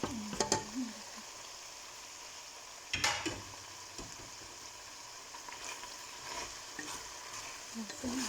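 Food sizzles and fries in a pan as an Ethiopian rice dish is cooked, with clattering stirring strokes near the start, around three seconds and again near the end over a steady close, fairly quiet sizzle.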